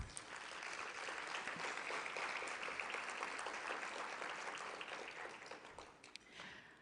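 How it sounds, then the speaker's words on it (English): Luncheon audience at a technology roundtable applauding sponsor Google, a steady wash of many hands clapping for several seconds before tapering off, fairly distant and soft. "Let's give them a round of applause"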